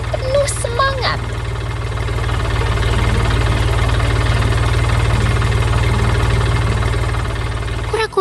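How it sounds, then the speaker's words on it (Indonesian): A green tractor engine runs with a steady low throbbing idle, loud and close throughout, with a few brief squeaky tonal sounds near the start. "Traktor hijau sedang mengangkut truk penuh bahan pertanian yang berwarna-warni"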